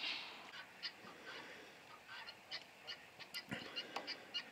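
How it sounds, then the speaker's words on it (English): Repeated harsh honks from several geese fighting, rapid and agitated, overlapping in quick bursts at a moderate distance. "We're gonna break up the goose fight."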